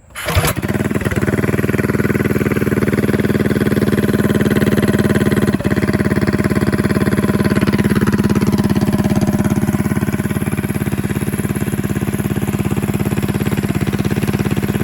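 A Go Power Sports Rascal 228cc engine with a choke cranks and catches almost at once, then runs at a loud, steady, close idle with a throbbing mechanical drone and no talking.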